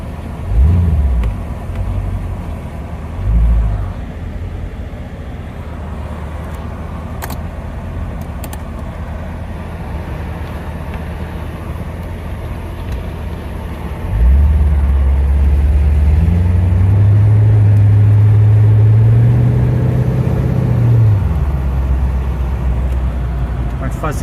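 A Chevrolet C4 Corvette that has sat all winter idles, then is revved in short bursts early on and in a longer rising rev later, loud and close, with a person speaking at times.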